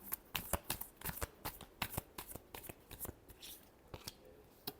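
Tarot cards are shuffled close by in a quick, crisp series of riffling flicks and snaps, fairly faint and steady over a few seconds, with no voices over them.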